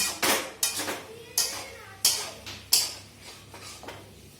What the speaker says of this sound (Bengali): এই দেখো বড়ি দিয়ে রান্না করছি বড়ি